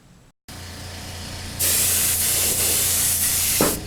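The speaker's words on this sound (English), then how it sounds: "Now I'm giving it 2 coats of black" Black spray paint hisses steadily from an aerosol can onto a Honda NS250R motorcycle fairing, a loud continuous close spray with brief pauses in the flow.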